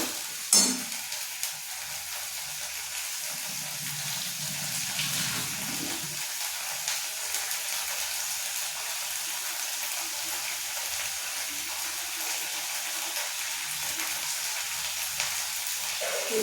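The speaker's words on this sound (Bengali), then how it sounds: "ভালো করে এটা নেড়ে নেব।" Mushroom curry with garlic and onion paste fries in a pan, a soft continuous sizzle with a few stirring scrapes and clicks near the start, fairly quiet and steady throughout.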